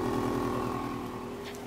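A 2011 Subaru Impreza WRX STI engine idles with a steady, uneven boxer rumble, close and continuous with a low pulsing throb.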